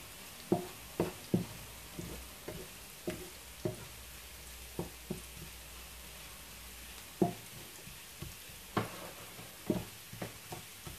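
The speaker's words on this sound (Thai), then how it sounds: "ต้อยใช้พริกแห้งผัดหน้าเนี้ยผัดให้มันหอมก่อนเนาะผัดกระเทียมกับพริกแห้ง" Garlic and dried chilies stir-fry in a pan, a quiet sizzle punctuated by a steady run of sharp spatula scrapes and taps against the metal.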